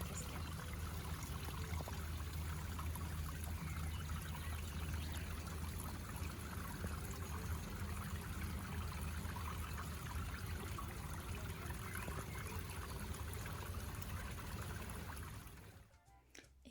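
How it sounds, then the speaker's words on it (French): A waterfall in the Italian countryside rushes in a steady, dense broadband roar, continuous and unbroken, fading out abruptly near the end. "J'ai laissé le son originel parce que j'adore la cascade."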